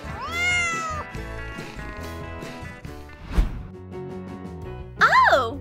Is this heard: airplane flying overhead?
no